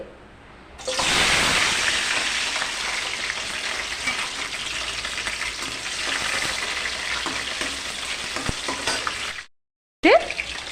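Green chillies hit hot oil in a pan for a chicken curry and burst into a loud, steady sizzle and crackle. The frying runs continuously for several seconds, briefly cuts out, then resumes.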